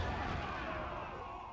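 Cannon fire from a battery tower in a Total War strategy game set in a Dutch invasion of Korea, heard as a dense, loud, continuous rumble of booming shots and battle noise throughout.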